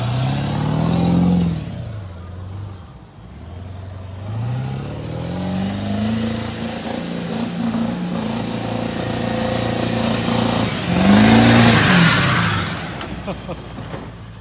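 A Ford Super Duty 4x4 pickup's engine revs hard and close, in repeated throttle blips that climb and fall in pitch over a rough idle.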